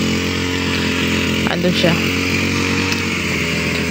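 Gasoline grass cutter running outdoors: a loud, steady high-pitched two-stroke engine whine that holds throughout, with a person speaking briefly over it partway through.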